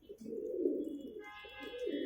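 A pigeon with black eyes and a crooked gait cooing, a low soft rolling coo repeated a couple of times, close by, with faint higher chirps in the background.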